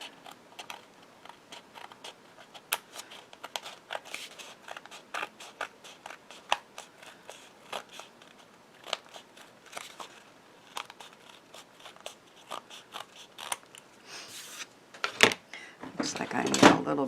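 Scissors snip through embossed card stock in a run of sharp, irregular clicks and crunches, with a louder burst of cutting near the end; a person talks intermittently over the snipping.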